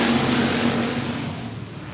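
Race cars on the I-37 Speedway dirt track roar off together at the green flag in a DTK Memorial Race, a dense, loud engine rumble that fades slightly as the field pulls away.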